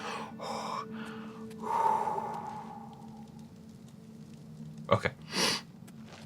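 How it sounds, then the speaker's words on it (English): A person sneezes close to the microphone: sharp breathy intakes, then two abrupt bursts near the end. A brief spoken word comes just before them. "Need to sneeze again."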